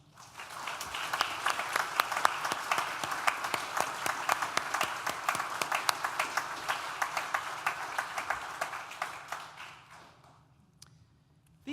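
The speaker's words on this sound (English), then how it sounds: "would you join me in thanking them with a round of applause?" Sustained applause from a large audience at a university graduation ceremony, dense rapid clapping holding steady for about ten seconds before thinning out and fading to quiet.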